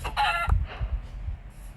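Minecraft chicken clucks in the video game, a few short, close clucking calls in quick succession followed by quieter game sounds, with no talking.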